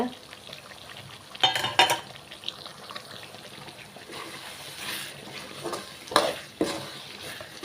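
Sautéed turkey berries being stirred into a masala curry in oil: a soft, low sizzle runs throughout, with a few sharper scraping stir strokes, some faint liquid sounds and some distant voice.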